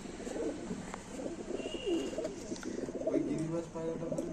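Young pigeons cooing in a pigeon loft of high flyers, soft repeated low coos close by at moderate volume, with faint voices in the background.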